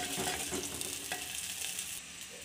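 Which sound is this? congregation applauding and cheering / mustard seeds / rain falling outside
mustard seeds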